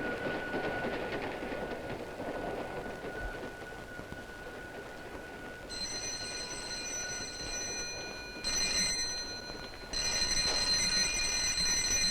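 Train running on rails in a 1969 Hindi suspense thriller scene, a steady rumbling wash with clattering texture, joined later by sustained high metallic tones like wheel squeal or a bell, no talk.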